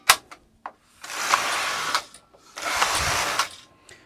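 Two long, loud whirring rattles from a European Singer Superba knitting machine carriage sliding across the bed, knitting rows of tuck and stocking stitch for waffle stitch, separated by sharp mechanical clicks and clacks.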